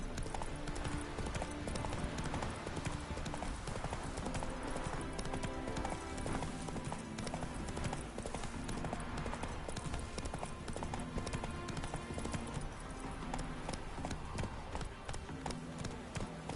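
Roach the horse gallops in The Witcher 3, hooves pounding in a steady, rapid clip-clop rhythm, close and loud over a dense game soundtrack for the whole stretch.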